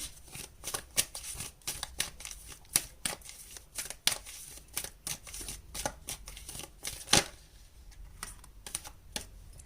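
Tarot cards riffled and shuffled by hand in quick, crisp bursts of papery snapping, with short pauses between riffles, close and fairly quiet, with no one talking.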